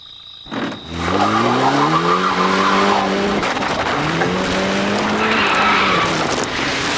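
Car tires squealing and skidding as the car gets stuck, a loud sustained screech with rising and falling pitch under engine noise, lasting several seconds.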